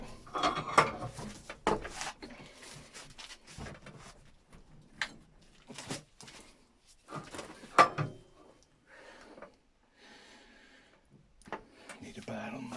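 A bench vise is cranked to press a new front ball joint into a 2000–2006 Honda Civic control arm using sockets, giving intermittent metallic clicks, creaks and clunks between pauses, with someone speaking at times.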